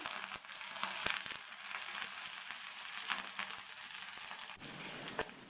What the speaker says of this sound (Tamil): எண்ணெய் சூடானதும் அதில் 1/2 டீஸ்பூன் கடுகு பொரிஞ்சதும் இதில் 4 இடித்த பூண்டை சேர்த்துக்கங்க